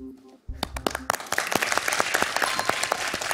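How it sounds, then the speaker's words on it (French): Studio audience on a French televised quiz show breaks into applause after a correct answer, dense clapping starting abruptly and building to a steady, fairly loud wash. "Tout le monde nous applaudit"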